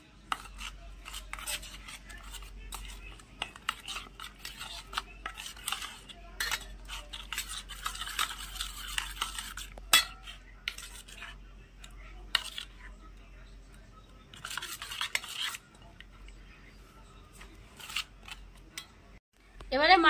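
Salt and mustard oil are mixed into a fish marinade with a spoon in a bowl, soft scattered clinks and scrapes with faint stirring, quiet and close.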